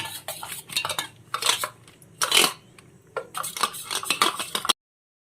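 A spoon mixing paneer tomato curry ingredients with garam masala and coriander powder in a bowl, giving irregular bursts of scraping and clinking metal against the dish, close and fairly loud, then stopping abruptly; no voices.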